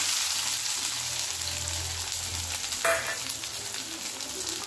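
Chopped onion and crushed garlic fry in hot oil in a pan, giving a soft, steady sizzle throughout with one brief clatter of stirring partway in.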